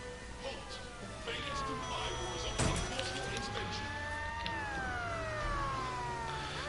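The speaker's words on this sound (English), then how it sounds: "Boy, you have really girly sirens." Police sirens in the video game Watch Dogs Legion, several wailing tones rising and falling over steady traffic noise, with a sharp burst midway and a voice talking over them.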